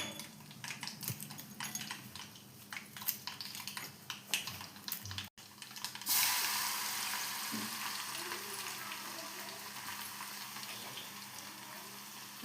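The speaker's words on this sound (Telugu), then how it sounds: "తిరగమాత వేసుకుందాం." Tempering spices drop into heated oil. The first half is a spoon clattering and stirring in the pan, and then a loud, bright sizzle bursts up and holds steady to the end.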